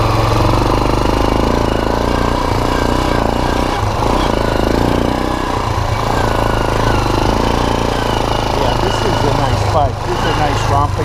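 A 2001 Kawasaki Bayou KLF 300 ATV, recovering from fire damage, drones loudly and steadily close by while being ridden, its engine note shifting slightly through a gear change, with wind rumble and faint talk mixed in.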